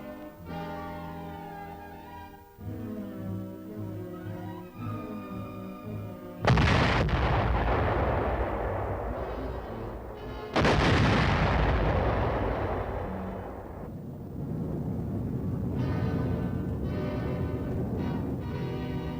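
Artillery and mortar fire from Korean War footage: heavy booming blasts that erupt suddenly and roll away, several in succession with long decaying rumbles, loud and close, no talking.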